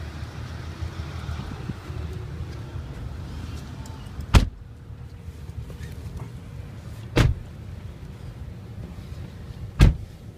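Three loud sharp thumps spaced a few seconds apart, like doors of a 2008 Ford Expedition Limited with a 5.4 V8 shutting, over a low steady outdoor rumble and wind.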